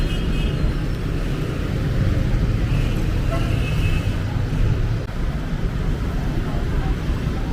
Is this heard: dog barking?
no